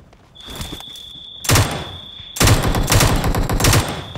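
Gunfire bursts in a PUBG match, sharp loud volleys of rapid shots in several clusters, with a steady tone and quieter game ambience between them.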